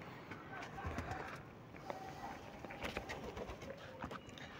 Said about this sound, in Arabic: دي حاجه كده بسيطه من حمامنا المتواضع